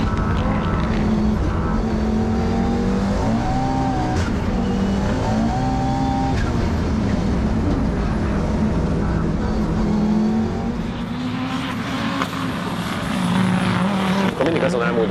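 Audi Quattro A2 rally car engine running hard and continuously loud, revving through gear changes with sharp anti-lag bangs and pops, while a voice talks over it.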